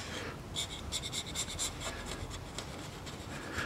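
A small chisel-like scraper rubs and scrapes across a surface on a 2010 Nissan Murano Z51 during CVT service, a quick series of faint, raspy scratching strokes heard close.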